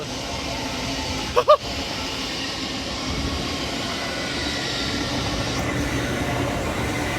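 An Ely to King's Cross train runs past on the East Coast Main Line at Hitchin, a steady rumbling roar held at a constant level, with a brief pair of sharp sounds early on.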